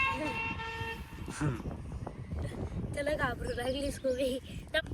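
Truck horn that plays a musical tune, sounding in two melodic bursts at close range over road noise, with people talking nearby.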